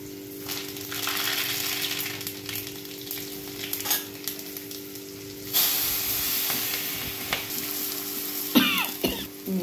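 Green chilli, garlic and ginger crackle and sizzle in hot oil, a loud, close, steady frying hiss with a sharper burst midway, plus a brief throat clearing and cough near the end.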